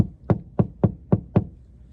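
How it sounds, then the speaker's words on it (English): Five firm, evenly spaced knocks on a front door, close and distinct, with quiet gaps between them and no other sound. "who do I hear knocking on my front door?"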